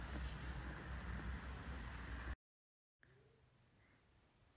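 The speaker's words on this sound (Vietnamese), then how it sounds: "Thời tiết gần 9 giờ mà trời mưa tới phui tới phùi." Steady rain falls in cold, overcast morning weather, a soft continuous hiss that cuts out briefly and then resumes more faintly.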